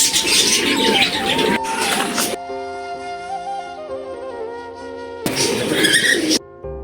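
Pigeon cooing beside a pond in a park, repeated soft throaty coos heard close by with bursts of louder outdoor noise at the start and end, no talking.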